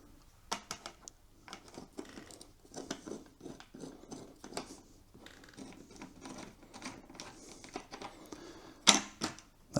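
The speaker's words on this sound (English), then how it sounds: "step one is going to be loosening off that screw there." Small clicks and scrapes from loosening a finger-tight screw on a motorcycle helmet visor mount, faint irregular ticks and handling noises close by, with a sharper knock near the end.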